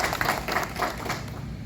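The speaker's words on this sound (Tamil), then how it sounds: "நம் அனைவரும் சேர்ந்து ஒரு கரகோஷத்தை" Applause from an audience gathered at a courtroom event in Arakkonam, a brief stretch of scattered, moderately loud hand clapping that thins out toward the end.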